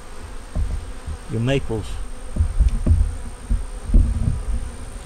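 Honey bees buzz around an open hive during an inspection while maple trees bloom nearby, a low, uneven hum running beneath a man's brief spoken words.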